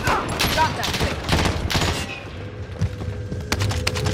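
Heavy bursts of gunfire in a Call of Duty Warzone quads match, loud rattling volleys in the first half giving way to scattered distant shots and thumps, while a player talks over the action.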